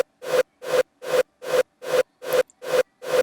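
Reversed reverb tail of a rawstyle hardstyle kick punch: eight identical swelling hits that build up and cut off sharply, evenly spaced about two per second, alone and dry between hits.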